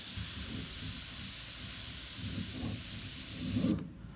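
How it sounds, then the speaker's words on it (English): Steady, close hiss of spray paint dusted lightly over painted tiger markings, continuous for several seconds before cutting off abruptly near the end, with faint handling sounds underneath. "I'm just dusting over these with a little bit of spray, not a lot, just to knock them back"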